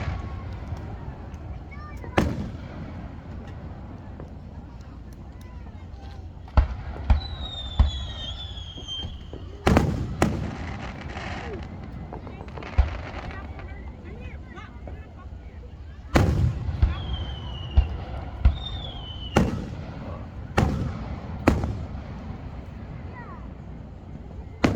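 A 4th of July grand finale fireworks display booms repeatedly at mid distance, with loud irregular bursts, rising whistles and crackles. People talk and react underneath.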